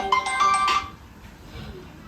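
A phone ringtone chimes in a Gujarati home, a short electronic tone followed by a longer sustained one, fairly close, then fading into quiet room noise.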